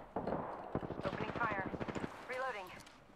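An RE45 pistol fires in Apex Legends, with a quick run of sharp, evenly spaced shots that rattle off in a rapid string beneath someone talking.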